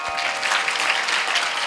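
An audience at a kirtan claps together in a brief, steady burst of dense applause that fills the hall evenly from start to finish.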